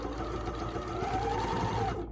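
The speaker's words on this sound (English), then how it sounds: "keep sewing the perimeter all the way around" A sewing machine stitching around the perimeter of a casserole carrier, a steady rapid whirring hum of the needle running continuously, close and clear without speech.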